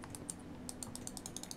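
Rapid taps on a computer keyboard while playing Minecraft, a quick irregular run of light clicks, faint and close, with no talk.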